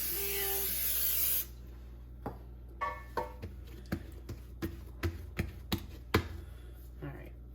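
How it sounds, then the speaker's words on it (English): Cooking spray hisses in one short, loud burst onto a baking pan for a loaf of stuffing bread. A series of soft, separate taps and rubbing sounds follows in the quiet kitchen. "You're going to spray your pan."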